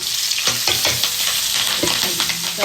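Onions and green chillies fry loudly in a hot pan, a dense crackling sizzle with repeated clattering strokes of a spoon stirring them up close.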